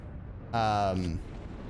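Fireworks explosions in the video game Frostpunk 2: one deep booming burst lasting about half a second with a ringing tail, standing out over quiet ambience.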